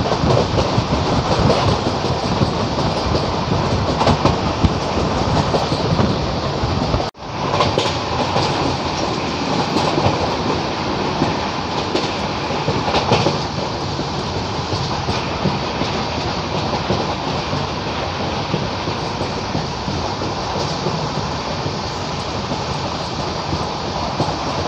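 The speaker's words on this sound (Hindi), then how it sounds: "गाड़ी चल रही है अपनी पूरी 130 की रफ्तार में" A Bandra superfast express train runs at 130 km/h on the journey from Jaipur toward Kota, giving a loud, steady close-up roar of wheels and carriages with continuous clatter that dips briefly once before resuming.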